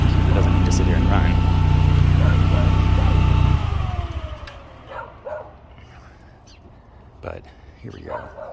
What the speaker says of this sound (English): I'm gonna kill the engine now. It doesn't need to sit here and run.